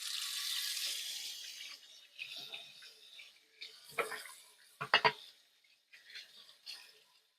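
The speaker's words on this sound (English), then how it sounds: "I'm going to wash my hands." Hands washed under a running tap at a homestead kitchen sink, a rushing flow at first, then broken splashing and rubbing bursts with brief quiet gaps.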